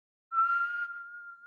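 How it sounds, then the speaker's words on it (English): A person whistles a single sustained, steady note close by, loud at first and easing slightly as it holds for about a second, with no talking. "I am whistling because I am very clever and he did not see it."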